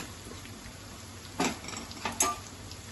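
Rice masala with turmeric sautéing in a pan for lemon rice, a low frying hiss broken by a few sharp spatula scrapes and clinks against the metal.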